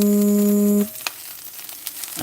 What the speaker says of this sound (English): The wifey is quickly sauteing the kale.